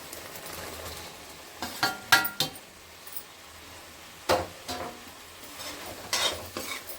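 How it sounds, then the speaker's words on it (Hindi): Potatoes and soybean chunks being stirred into a masala frying in a pan: a soft sizzle runs underneath, and a spoon scrapes and clatters against the pot in several separate bursts, close and clear, with no voices. "और अब आलू और सोयाबीन को कर देते हैं जी इसमें मिक्स।"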